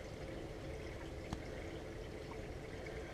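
Water from showers runs steadily from both sides inside a building, a constant broadband rushing hiss with one brief knock partway through.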